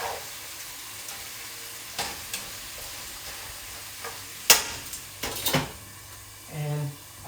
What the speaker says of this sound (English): I'll give my zucchini a stir.